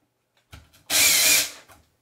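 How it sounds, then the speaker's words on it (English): A power drill whirs loudly for about half a second on a cylindrical Mac Pro, preceded by a few small clicks and handling knocks. "We're going to grab a drill."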